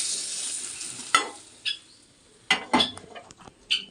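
Eggplant fries in oil with a soft sizzle that fades in the background, broken by several sharp clinks and scrapes of a utensil against the pan.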